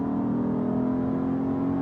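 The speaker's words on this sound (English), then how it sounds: "you don't hear too many SUVs with this kind of exhaust note. It's kind of it's got a little angry growl to it" A 2009 Acura MDX SUV under full throttle gives a steady, droning exhaust growl, loud and continuous with no talk over it.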